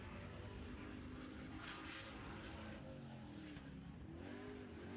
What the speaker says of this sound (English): That's a Dodge power plant on board.